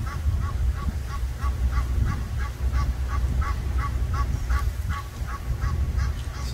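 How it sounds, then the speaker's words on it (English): Egyptian geese perched up high in South Florida in the early evening give a loud, rapid run of rhythmic honks that carries on steadily, with no talk over it. "Egyptian geese. There's four of them up there."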